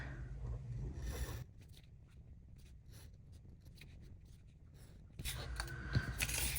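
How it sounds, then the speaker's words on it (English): Washi tape being cut by hand with scissors near the dates of an Erin Condren Daily Duo planner, a few close, crisp snips and scrapes with quieter paper handling in between and a louder rustle near the end. "I'm also gonna cut the washi up here by the dates"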